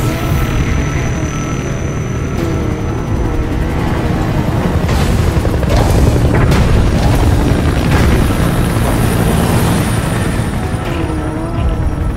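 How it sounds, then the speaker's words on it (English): A support helicopter's continuous rotor roar in the video game Metal Gear Solid V: The Phantom Pain dominates, mixed with repeated booms and explosions, loud and dense throughout. "Literally, support helicopter."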